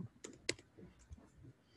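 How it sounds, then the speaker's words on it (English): A few quick, faint keystrokes tap on a computer keyboard in an irregular burst of clicks, with no talking. "Okay, Tim's typing."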